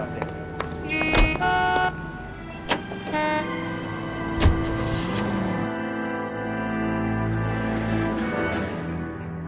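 A 1940s-era car in the Los Angeles setting of the video game L.A. Noire drives along with a steady engine drone, while horn toots and other traffic sounds rise and fade around it.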